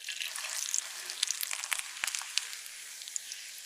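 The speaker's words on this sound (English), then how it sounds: "Put the mixture on the toasted bread. Toast on both sides." Bread slices topped with a mixture of pre-cooked pasta and grated cheese toast in a frying pan, giving a soft, steady high sizzle with scattered faint crackles and pops throughout, no voices.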